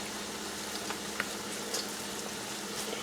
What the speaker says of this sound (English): these are pretty much like with any fried food. You don't want to overcrowd your pan